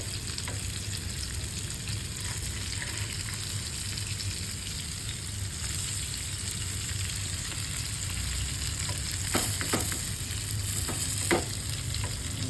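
Mackerel fish sizzle steadily in a frying pan, a continuous close frying hiss with a few brief clinks and scrapes as the pieces are turned.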